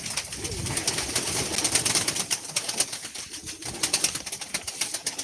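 Pigeons cooing and shuffling in a loft as birds are handled, with a brief flutter of wings; the sound is close and continuous, with busy low coos and rustling throughout.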